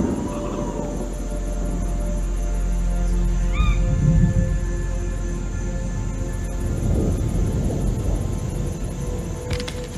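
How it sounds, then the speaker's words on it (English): A barn owl calls at night, giving a single harsh, drawn-out cry about midway through, set against a steady, noisy backdrop. "A barn owl."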